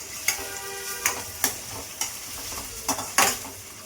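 Onions and green chillies frying in a pan for sambar, with a steady sizzle broken by several sharp scrapes and clacks of a spoon stirring, no voices.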